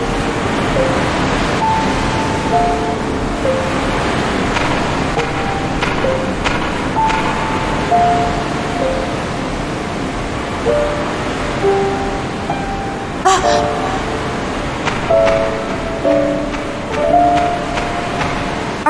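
Ocean surf in the Xenosaga Episode video game, a steady loud wash of breaking waves rolling on without pause, with faint scattered tonal notes drifting over it.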